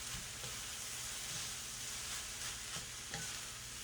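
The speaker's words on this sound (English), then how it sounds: "And toss it, stir evenly." Fried rice with steak, vegetables, soy sauce and fish sauce sizzles steadily in a hot pan while a spatula stirs and tosses it, scraping at an uneven rhythm under a constant frying hiss.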